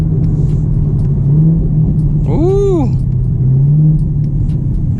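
A Camaro ZL1 1LE with a 10-speed automatic rumbles loudly up close, with brief rising engine blips on downshifts. A person exclaims once partway through.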